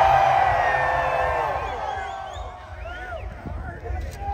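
A concert crowd at a live show in Daytona Beach cheers and whoops loudly, the roar gradually fading then swelling again with scattered shouts.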